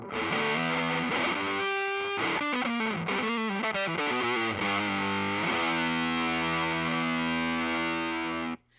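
Electro-Harmonix Big Muff Op Amp fuzz pedal with the tone control fully up drives a thick, saturated guitar through a sliding, bending lead phrase that ends on a long sustained chord, loud and continuous.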